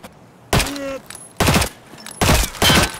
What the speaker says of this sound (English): Somebody popped a shot.